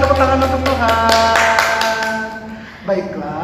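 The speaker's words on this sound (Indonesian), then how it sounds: "beri tepuk tangan untuk Tuhan" Children and adults clap hands in a Sunday school service, a run of quick, fairly loud claps that stops near the end, with voices and a sustained musical tone underneath.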